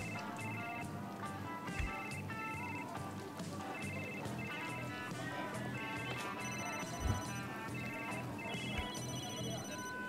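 Telephone ringtone in a food truck cooking video game: a repeating electronic ring plays steadily over a dense mix of game music and kitchen noise.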